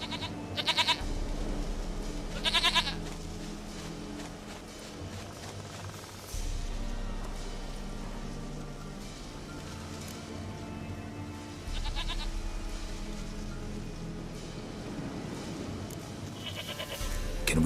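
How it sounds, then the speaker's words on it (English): A goat in The Witcher III bleats faintly a few times, the short calls spaced apart over quiet game ambience and a low steady hum. "Goat of mine, dearest, sweetest goat."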